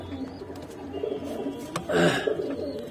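A Sobji pigeon pair at a pigeon farm coos in soft low bursts, with one louder coo near the end over faint background noise.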